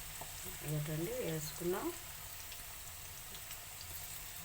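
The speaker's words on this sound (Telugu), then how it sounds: "చిప్స్ ఇంకా ఫ్రై అవుతున్నాయి" Chips frying in oil on a medium flame, a steady soft sizzle running the whole time with brief talk over it near the start.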